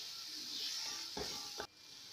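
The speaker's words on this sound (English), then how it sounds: "Then give it a good stir." A tomato and turmeric sauce for a Kenyan fresh tilapia dish stirred in a pan, a soft bubbling hiss with a couple of brief spoon scrapes near the end, then a quieter simmer.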